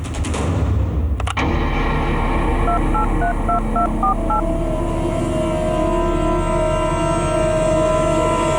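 A short run of tonal telephone keypad beeps dials a number, sounding over a steady loud background bed with a sharp thump near the start.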